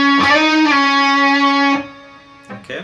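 Electric guitar plays a melodic phrase: a sustained, slightly distorted lead note that bends and swells, then a second held note ringing for over a second before fading, with a brief quieter note after.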